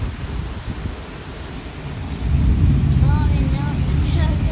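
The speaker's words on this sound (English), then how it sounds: "Just a bad thunderstorm." Steady heavy rain from a thunderstorm in Houston, Texas roars throughout, growing louder halfway through, with low rumbling thunder beneath and faint voices in the background.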